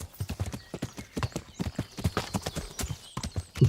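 A horse's hooves clip-clop in quick, even steps in Kingdom Come: Deliverance, close and steady throughout, with a brief snort near the end.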